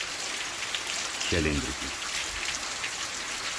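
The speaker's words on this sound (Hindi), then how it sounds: "लीजिए आ गई बारिश" Steady rain falling at Lonavala, a continuous even hiss of drops throughout, with a voice speaking briefly over it partway through.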